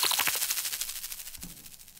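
A bred soft synth patch pulses in rapid, even bright repetitions that slowly fade, with a low thump partway through, alone and fairly quiet.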